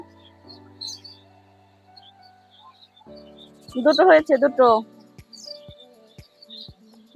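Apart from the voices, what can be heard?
birds chirping outdoors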